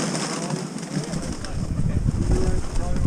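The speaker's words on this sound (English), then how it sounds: "There's the birds now, look." Pigeons at a wharf coo and flutter close by, soft low calls and wing flaps rising under a busy outdoor background with some voices.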